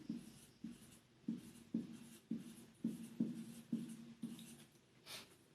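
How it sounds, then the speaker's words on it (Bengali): A pen writing a number by hand on paper during a maths lesson, heard as about ten short, soft scratching strokes in a loose rhythm, close and quiet with no talk. "আমি এখানে একটি সংখ্যা লিখছি"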